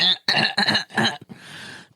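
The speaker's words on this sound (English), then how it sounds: "Let me clear my throat." A person clears their throat with several harsh, raspy bursts, ending in a softer breathy rasp, close and loud.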